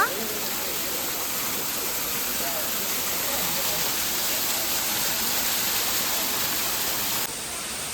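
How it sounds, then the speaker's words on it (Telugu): Falling water from an artificial waterfall at Franklin Park Zoo in Boston gives a constant broadband rush, steady and fairly close, with no other distinct sounds above it. "ఇక్కడ పైనుంచి వాటర్ ఫాల్స్ పడుతున్నట్టు సెటప్ చేసినారనమాట"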